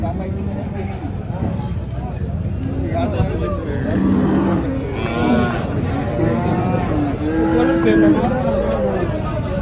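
HF and Jersey crossbred cows moo repeatedly, long drawn-out lows, over a busy background of voices and crowd chatter at an outdoor cattle market in Chalisgaon, India.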